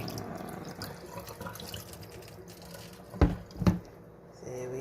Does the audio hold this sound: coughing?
no